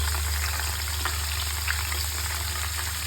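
Kaffir lime leaves frying in hot oil for crispy mee krob, a steady, dense sizzle and crackle that holds evenly close by, with no voices.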